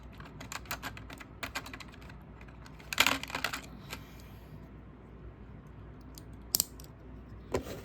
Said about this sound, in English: I may just want to go ahead and grab the knife and cut this